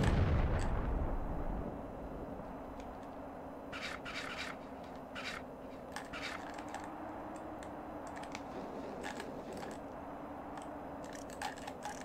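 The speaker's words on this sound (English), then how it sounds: "No, you are shooting at me." Gunfire in the video game The Thing, with sharp scattered shots and bursts in the mid-distance over a steady low rumble, with one louder blast at the start.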